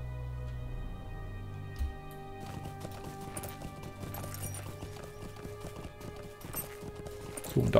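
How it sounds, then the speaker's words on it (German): Horse hooves clip-clopping at a steady riding pace in Lord of the Rings Online, rhythmic and fairly quiet, with a brief whinny and an underlying ambient game drone. "Wir reiten jetzt einfach mal kreuz und quer hier runter"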